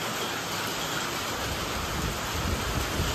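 Hailstones pouring down during a windy storm in Badlapur, a dense, continuous hissing clatter of ice striking surfaces, loud and close with no pauses.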